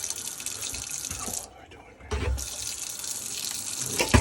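Cold tap water runs into a sink in a steady hiss that stops briefly and then starts again, close by and moderately quiet, with a voice speaking over it.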